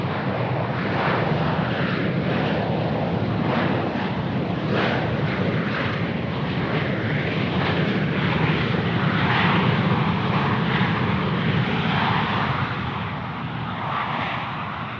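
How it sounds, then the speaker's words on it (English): A Velocity 504 airliner from the Gold Coast lands at Sydney Airport, a loud sustained engine roar with broad rushing noise that holds for the whole span and eases slightly near the end. "So that aircraft that just landed there was Velocity 504 coming in from the Gold Coast"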